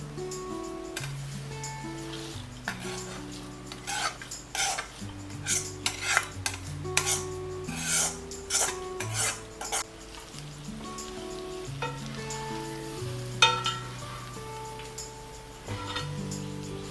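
Flattened rice with jaggery, ghee and fried items is stirred in a pan for a Kerala snack, the spoon scraping and tapping the metal in an uneven, ongoing rhythm, close by, over soft background music.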